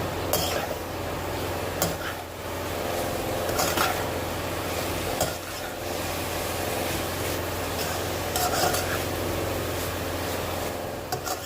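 Fried rice with a spoonful of soy sauce being stirred in a pan for a restaurant-style Chinese dish, with a steady scrape and clatter of the utensil against the metal that continues throughout over a low background hum.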